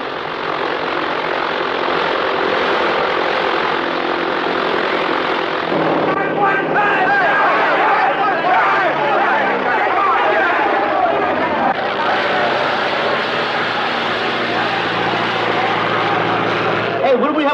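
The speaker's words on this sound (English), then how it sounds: "What's that noise? Well, that's one of those planes over there." A parked propeller airplane's engine runs inside a hangar, giving a loud, steady drone that lasts the whole stretch, with voices faintly in the background.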